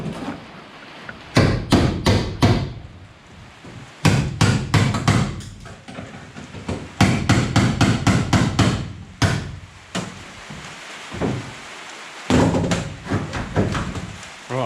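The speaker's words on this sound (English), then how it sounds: "You may think cutting aluminium with a cold chisel in tight spots is a bit rough" Cold chisel hammered through an aluminium boat deck frame, loud sharp metallic blows in rapid bursts of several strikes separated by short pauses, close up with no talking.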